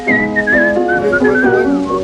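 A clear, melodic whistled tune, close and fairly loud, wavering up and down in pitch for a couple of seconds.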